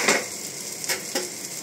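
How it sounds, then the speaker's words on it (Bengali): Sliced onion and bitter gourd fry in an uncovered pan over a medium flame with a soft, steady sizzle and a couple of light stirring scrapes. "এবার এটাকে আমি মিডিয়াম ফ্লেমে ভাজতে থাকব।"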